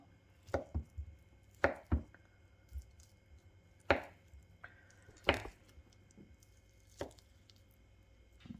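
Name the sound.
chopping ham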